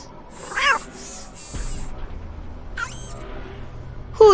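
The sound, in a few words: robotic cat Suki meowing in Nancy Drew video game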